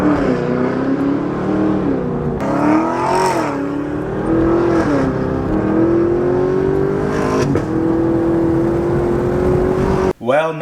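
A car with a Corsa NPP valved exhaust revs repeatedly, a loud raspy engine note that swells and falls in several pulls before cutting off sharply near the end, with some talking.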